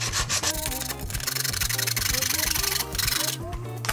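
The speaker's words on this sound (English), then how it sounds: "I think I'm gonna take a regular hacksaw blade." A regular hacksaw blade held by hand cuts through a plastic prop part, giving quick rasping back-and-forth strokes up close, with brief talking at moments.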